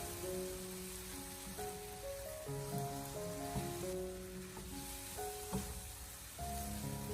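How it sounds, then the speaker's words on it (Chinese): Okra and eggs stir-fried in a wok give a steady, moderate sizzle with occasional scraping of the spatula, under continuous background music. "最后我们再把它翻炒一下，把鸡蛋和秋葵翻炒出香味。"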